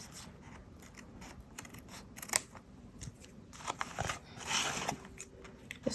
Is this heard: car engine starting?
no